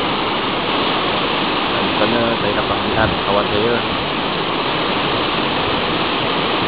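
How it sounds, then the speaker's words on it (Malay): The Lata Hijau waterfall at Batang Kali rushes in a steady, broadband roar of falling water, continuous and fairly loud, while someone talks over it near the middle. "inilah keadaan di kawasan air terjun Batang Kali,"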